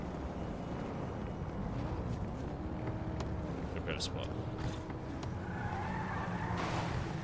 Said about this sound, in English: traffic here is too loud